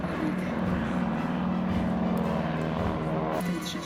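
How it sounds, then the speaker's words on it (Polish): Three Polish Air Force training airplanes take off at the Aerobaltic 2019 airshow at Gdynia Kosakowo airfield, giving a steady, moderately distant propeller-engine drone under broadband outdoor noise. "Startują trzy samoloty."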